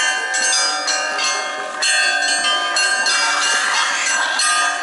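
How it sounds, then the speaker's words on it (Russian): Church bells ring in a rapid, overlapping peal near Gostiny Dvor in St. Petersburg at New Year, bright clanging strokes sounding loud and steady throughout. "поэтому мы тут еще можем послушать и колокольный звон"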